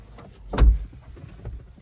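A single dull thump as a car door shuts nearby, brief and solid against a quiet background.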